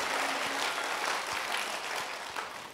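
Applause from a congregation at a revival prayer meeting in a Korean prayer retreat center, a soft, continuous patter of many hands heard from some distance.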